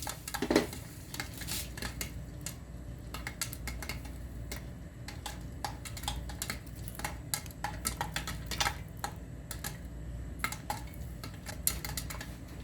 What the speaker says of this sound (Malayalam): ഇപ്പം നമ്മുടെ കോണ് അകത്തിരുന്ന് പൊട്ടുന്നത് നമുക്ക് കേൾക്കാം